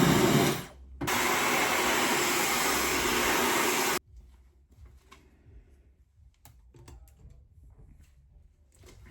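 A hair dryer blows hair with a loud, steady whoosh that cuts out briefly, resumes, then stops after about four seconds, leaving quiet room noise with scattered light handling clicks.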